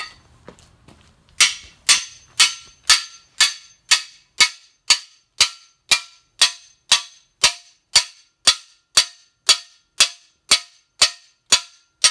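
Sharp metallic hammer strikes ring out in a steady, evenly spaced series on parts of a 350 engine being torn down, loud and close, each blow decaying quickly before the next.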